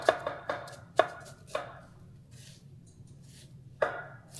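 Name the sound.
chopping onions for moussaka sauce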